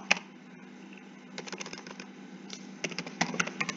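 Someone types on a computer keyboard up close, producing quick clusters of crisp key clicks in irregular bursts, with a louder keystroke at the start and a faster run of taps near the end.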